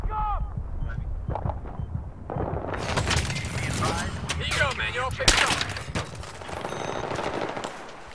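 Bursts of automatic gunfire and sharp shots crackle in a tactical shooter match on the Overpass map, growing loud and dense after a quieter start, with voices talking over the action.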